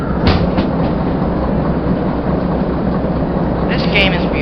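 Freight train cars rolling along the rails in the Derail Valley game, a steady loud rumbling drone with faint rhythmic clatter throughout, and a voice heard briefly beneath.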